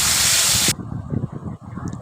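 A small splash of water poured onto hot fried spices for an egg curry, bursting into a loud, close hiss for under a second before settling into a softer bubbling sizzle.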